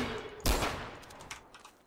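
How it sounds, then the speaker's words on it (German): Gunfire during a Garry's Mod Trouble in Terrorist Town round, one sharp loud shot followed by a few fainter, more distant pops. "Da wird geschossen."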